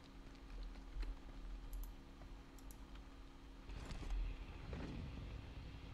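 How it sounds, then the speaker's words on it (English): Car engine in the mobile battle royale game PUBG Mobile, a steady low droning hum running under the whole stretch with faint clicks and taps on top, rising slightly louder near the end. "Let's go straight for the car. And let's start driving."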